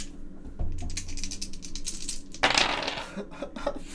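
Four dice rolled during a Betrayal at House on the Hill board game clatter across a table in a loud, rattling burst, followed by scattered smaller ticks as they settle.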